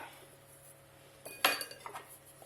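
Chicken and vegetables with rosemary infusion stirred in a cooking pot, giving a few brief metallic clinks and scrapes of a utensil against the pot, quiet at first then a short cluster of louder knocks, no talking.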